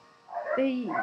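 A dog gives a single short bark or yelp in the background, rising sharply and close enough to be clearly heard.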